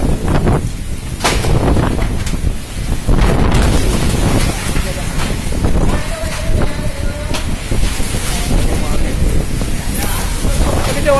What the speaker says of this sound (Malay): Angin. Kondisi di Banda Aceh. Angin 3 darhat. Angin. Lihat angin.